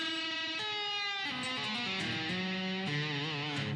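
Sustained, distorted string notes step down and shift pitch in uneven stages, each hammered note ringing on with buzzy overtones, close and alone.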